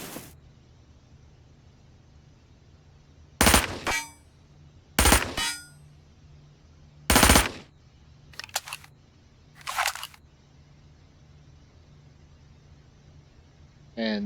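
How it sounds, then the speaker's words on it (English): An MP7 submachine gun fired from a prone position lets off several short, sharp bursts spaced a second or two apart, loud and close against a quiet outdoor background. "I'll go prone and see if I can throw a couple bursts down"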